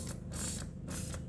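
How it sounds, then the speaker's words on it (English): Cleaning solution sprayed from a trigger spray bottle into a washing machine's detergent dispenser tray gives three quick hissing bursts in an even rhythm, close and fairly soft, with faint mechanical clicks from the trigger between them. "So I'll just be spraying the solution inside the tray, the dispenser tray where you put your"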